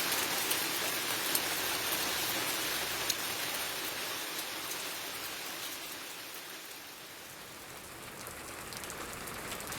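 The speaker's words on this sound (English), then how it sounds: "Raindrops patter wetly onto the calm surface of an estuary pool, stippling its water with dimples and shivering the grasses and reeds beside it." Raindrops patter steadily onto the calm surface of an estuary pool, a dense, even hiss of countless small drops with faint scattered ticks, continuous and close.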